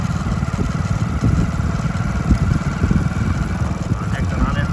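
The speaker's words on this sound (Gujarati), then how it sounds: "તો આ ટ્રેક્ટર સા નાખે છે" Tractor spreading fertilizer across a large farm field before cotton sowing, a continuous low rumbling engine drone with steady throb, close and loud throughout.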